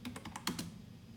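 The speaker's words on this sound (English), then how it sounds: "So let me pull up this terminal and we're gonna type it in here." A computer keyboard sounds with a quick run of about six soft, close keystrokes as a command is typed into a terminal, followed by quiet.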